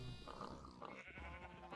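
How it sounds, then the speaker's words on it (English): Sheep in the video game Minecraft bleat repeatedly, a pink sheep among a penned flock, with overlapping wavering cries filling the short stretch at steady, close volume. "Oh no, it's a pink sheep."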